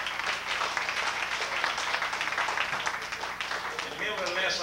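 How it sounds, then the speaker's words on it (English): At a live blues band show, the audience applauds the drummer with a thick, sustained clatter of clapping hands, with voices cheering and talking through it. "Now, a big round of applause."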